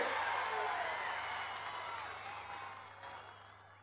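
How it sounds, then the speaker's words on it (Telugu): A political rally crowd applauding to welcome Rahul Gandhi, broad steady clapping that slowly fades across a few seconds. "పెద్ద ఎత్తున చప్పట్లతోని శ్రీ రాహుల్ గాంధీ గారికి స్వాగతం పలకండి"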